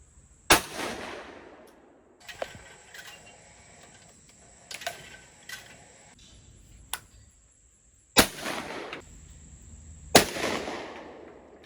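Remington 1225 light target loads fired from a new dove-hunting shotgun: four sharp blasts at irregular intervals, each followed by a ringing decay, with softer clacks of the action cycling between them and a steady high whine in the background.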